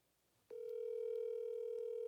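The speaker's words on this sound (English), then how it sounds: "And we're going to do our annual Let's Call Zach and see what he says" A telephone dial tone starts abruptly with a click and holds as a steady, clean, continuous tone while a call is being placed, close and alone.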